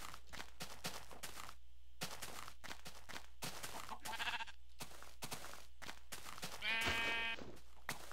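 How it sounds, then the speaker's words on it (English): Sheep bleating in a Minecraft-style video game, a few short bleats scattered among game sound effects, with one louder, closer bleat near the end; no talk. "I need to kill some sheep"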